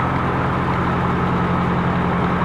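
Truck engine idling after being started to move a flatbed carrying a Lockheed Martin F-16A Fighting Falcon at an air museum, a loud steady low rumble that stays constant and close throughout.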